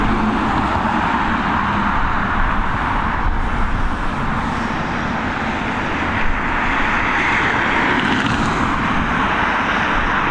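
Ryanair airliner landing at Dublin Airport, a loud, steady roar of jet engines and rushing air that holds evenly throughout, heard from nearby.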